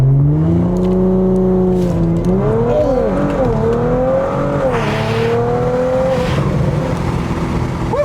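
A tuned Audi B9 S5 with about $8,000 in modifications accelerates hard, its engine note climbing loudly and close up, dipping briefly at shifts before rising again.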